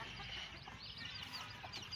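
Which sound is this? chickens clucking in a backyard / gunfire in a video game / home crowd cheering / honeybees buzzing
chickens clucking in a backyard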